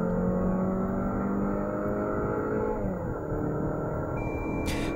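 A Mazda 3 with the SKYACTIV-G 2.0 petrol engine and automatic gearbox accelerates hard, its engine drone climbing in pitch, dropping at a gear change around the middle, then pulling again, loud and close from inside the car.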